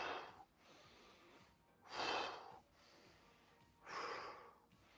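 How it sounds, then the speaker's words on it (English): A man demonstrates exaggerated breathing during a dumbbell workout, with loud, airy exhalations blown out in three big bursts about two seconds apart and softer nasal inhales between them, close and without speech. "I'm being a little louder with my breath so you can hear it"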